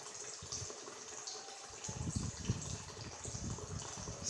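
An Arduino-controlled water pump fills a tank, water splashing and trickling faintly and unevenly with a low gurgling churn that grows busier partway through.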